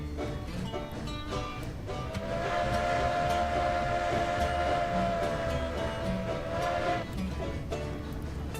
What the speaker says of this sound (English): We're gonna send this locomotive around and get it tacked onto the back of this